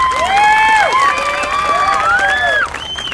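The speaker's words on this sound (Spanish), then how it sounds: "A ver el aplauso para él." A crowd at an outdoor comedy show in a city park cheers and whoops loudly, with high wavering shouts and whistle-like cries rising and falling over steady applause for about three seconds.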